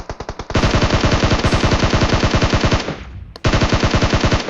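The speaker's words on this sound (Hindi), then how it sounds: "यहाँ पे जो पीछे से फायर आता है" Loud automatic gunfire in a battle royale mobile game, rapid evenly spaced bursts coming from behind the player, with a brief pause before another sustained burst.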